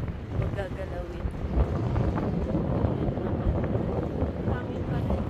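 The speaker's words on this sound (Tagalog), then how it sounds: "Hangin pa rin guys." Strong wind buffets a microphone throughout on a walk beside the river Seine in Paris, a dense, continuous roar with a voice speaking faintly underneath.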